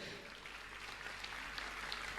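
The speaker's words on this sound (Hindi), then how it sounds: "जोरदार ताली से उनका स्वागत भी करें" An indoor audience at a Jain religious gathering claps steadily to welcome guests, a moderately quiet, even patter of applause with a low hum underneath.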